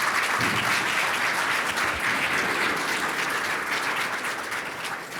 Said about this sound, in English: give Lina, Klaus, Kulapat, Jacques, and András a very warm round of applause